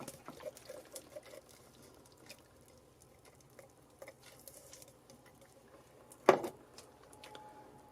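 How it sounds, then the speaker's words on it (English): Canned sauerkraut tumbles into a pot with its liquid for a sausage, potato and sauerkraut dish: quiet wet patters and small splats scattered through the pour, then one louder sloshing splash near the end, close by and with no talking. "Now here is a can of sauerkraut. I'm going to put it in there,"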